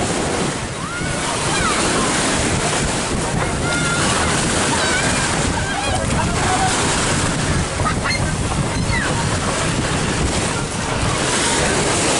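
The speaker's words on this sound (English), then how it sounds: "These waves are actually getting strong enough to stir in the mud up." Loud, continuous storm surf crashes nearby at a beach resort while strong wind buffets the microphone throughout.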